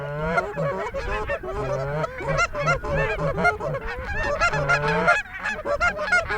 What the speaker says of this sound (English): you may not want to blow a loud honk at them right away